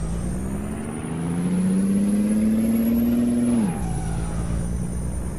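A heavy Blue Bird bus engine on a highway in Honduras holds a steady droning roar that climbs in pitch, then drops sharply as the gear changes, followed by a lower idle hum.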